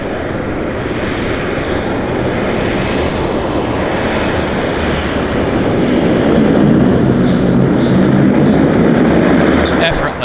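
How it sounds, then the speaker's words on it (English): A Cessna Caravan amphibian floatplane engine droning at Vancouver Harbour, a loud, steady broadband roar that swells slightly toward the end, with people talking over it. "This is a Caravan amphib."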